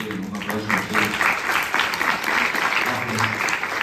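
A room of students and adults applauds at a school event, a steady burst of clapping with a few voices mixed in underneath.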